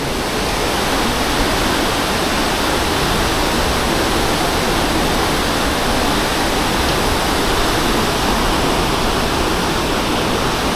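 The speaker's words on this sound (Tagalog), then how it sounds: "Pag nandito ka makikita mo talaga yung tubig na bumabagsak." Loud, steady roar of a raging river's water crashing down near a cave at Wawa, a dense continuous wash of noise with no pauses or voices.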